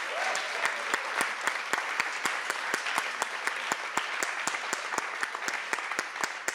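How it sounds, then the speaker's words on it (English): Sustained applause from a conference panel audience, with a thick wash of clapping and one sharper, rhythmic clapper standing out at a steady beat throughout. "Let's give them a round of applause."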